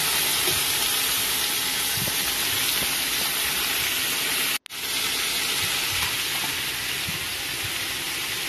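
Taro and potato curry is stirred in a hot frying pan, a steady close sizzle and hiss running throughout, broken once by a brief cut near the middle.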